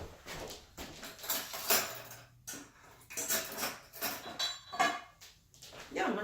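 Metal cutlery clinks and rattles as a spoon is fetched from a kitchen drawer, a run of close, irregular clatters and scrapes with a brief thud, no talking.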